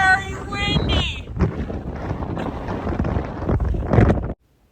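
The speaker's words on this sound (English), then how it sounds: "it's very windy." Strong wind buffets the microphone on an open Nebraska plain, a loud, steady broadband roar with gusts swelling and easing throughout before cutting off abruptly; faint voices can be made out beneath the rumble.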